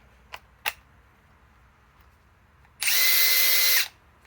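A Metabo HPT impact driver on a flex battery gives two small clicks, then one loud, close whirring burst lasting about a second before cutting off.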